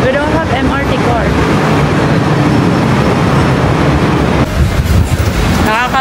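Hong Kong MRT train noise rumbles loud and continuous through a station, a dense steady roar with people talking over it.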